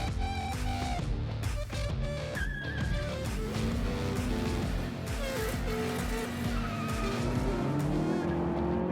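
A race car at the Killarney circuit during Superboss Day, its engine roaring loud and continuous with tires squealing and skidding through the run, rising in pitch toward the end.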